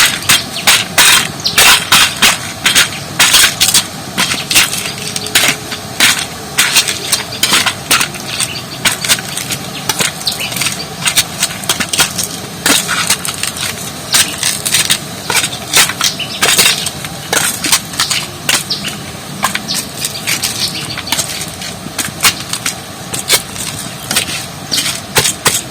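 Dried lentil dumplings (bori) are crushed with a stone pestle, a steady run of dense, crunchy grinding strokes and sharp cracking taps close at hand throughout, with no talk.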